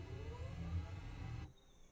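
Left engine of a DHC-6 Twin Otter starting up in Microsoft Flight Simulator 2024, a steady mid-pitched whirring rumble that builds and holds, then cuts off abruptly near the end, with no voices.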